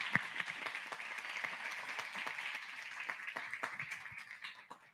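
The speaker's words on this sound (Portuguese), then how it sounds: "Uma salva de palmas." An audience applauds at a university talk welcoming a graduating veteran student, steady dense clapping with a few sharper nearby claps, fading slightly toward the end.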